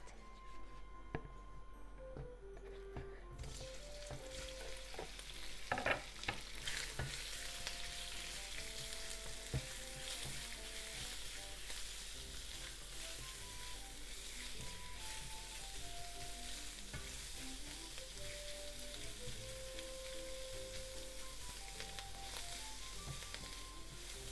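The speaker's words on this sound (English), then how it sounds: "Heat up about a tablespoon of vegetable oil in the frying pan or wok. And let's cook the shrimp first." Shrimp fry in a tablespoon of hot vegetable oil in a wok for stir-fried yakisoba noodles. A steady, fairly faint sizzle continues throughout, with a brief clatter of stirring near the start.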